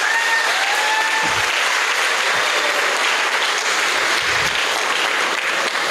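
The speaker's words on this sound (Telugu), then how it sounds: "ఒకసారి గట్టిగా చప్పట్లు కొట్టండి." Audience applause at a Vestige direct-selling training event, a dense, loud and steady wash of many clapping hands with no gaps.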